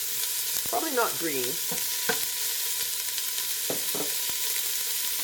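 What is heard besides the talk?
chopped red onion sizzling as it fries in a pan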